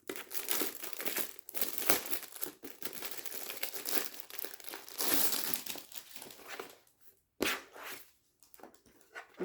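A crinkly plastic package holding storage pouches is torn open and handled up close, giving dense, continuous crackling and crumpling with a short pause near the end.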